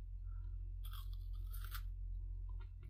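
Crunching bite into a Canadian Drumstick KitKat bar with a thick cream layer, a couple of close, crisp snaps and chews over a steady low background hum, no talking.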